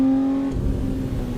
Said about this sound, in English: The Lamborghini, that sound of the V12, dude, it's just beautiful.